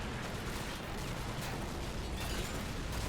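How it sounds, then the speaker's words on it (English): Howitzers fire continuously in the World War II strategy game Men of War, set during the German retreat from Stalingrad, producing a dense, steady roar of distant artillery and battle noise with no clear individual shots. "Howitzers still firing away"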